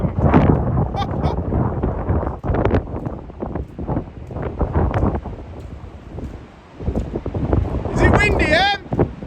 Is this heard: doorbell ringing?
no